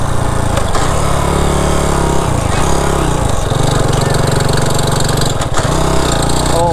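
A failing Honda Dream motorbike engine runs loud and close, surging through several uneven revs with a rough, strained drone.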